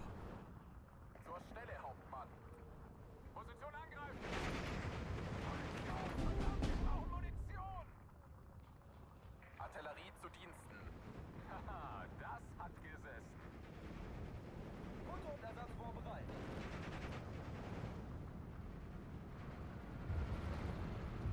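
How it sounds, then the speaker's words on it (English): Mortar fire falling around a Panzer II in Steel Division 2, heard as repeated rumbling impacts and battle noise throughout, with a heavier blast in the middle, under someone talking for much of the time. "Are they mortaring my Panzer II?"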